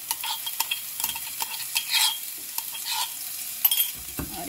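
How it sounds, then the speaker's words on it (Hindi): Crushed ginger and garlic with onions frying in a pan, a soft, fairly quiet sizzle broken by scattered clinks and scrapes of stirring. "और इसे भी अच्छे से 2-3 मिनट के लिए फ्राई करेंगे।"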